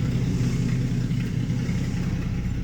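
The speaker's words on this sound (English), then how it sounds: "Definitely has a little bit of an exhaust leak." A Jeep XJ engine runs steadily with a slight exhaust leak, giving a continuous loud, low rumbling idle with faint ticking over it and no speech.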